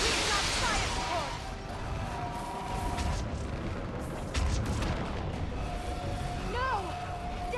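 Artillery fire support pounds in Mass Effect 3 during the fall of Thessia, with dull booms and rumbling blasts scattered through loud battle noise and warbling sci-fi effects.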